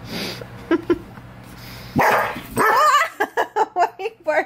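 A dog barks at people beside a swimming pool, starting with a few soft yips and whimpers, then giving a rapid run of loud, close barks.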